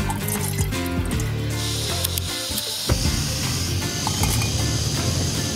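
Water pours steadily into a pot for making coffee on a backpacking trail, a continuous splashing fill with some clinking, close by and without talking.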